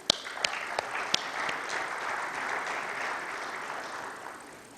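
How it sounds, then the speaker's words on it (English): Audience applause for Iraq in a conference hall at an international energy conference, beginning with a few sharp individual claps that swell into steady crowd clapping before tapering off. "Can we give Iraq another applause"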